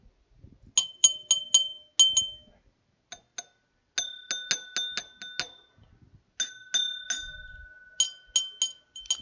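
Someone repeatedly taps small whisky glasses, among them a Glencairn and a shot glass, producing bright, high glassy pings. The taps come in rapid clusters separated by short pauses, clear and close.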